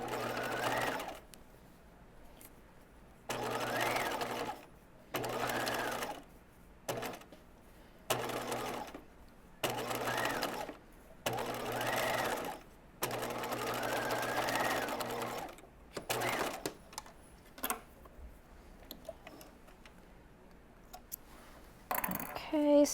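Close, clear bursts of a sewing machine stitching a pant seam, about a dozen runs of varying length with short pauses between them and quieter handling afterward.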